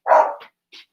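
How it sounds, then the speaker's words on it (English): A dog gives one sharp indoor bark, close and loud, followed by a short faint yip. "Oh, there's my dog."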